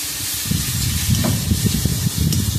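Spices with turmeric sizzle and hiss in a hot pan for egg curry, crackling spatters popping irregularly over a steady frying hiss, close and fairly loud.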